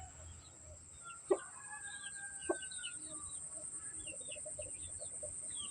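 Gamefowl roosters of a bred fighting-cock bloodline cluck and call on a farm, with two sharper clucks standing out over a constant high insect-like drone and scattered distant bird chirps.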